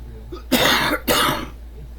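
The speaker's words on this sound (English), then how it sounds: "Excuse me for coughing" Two sharp, close coughs in quick succession, with a faint breathy sound before them and quiet afterward.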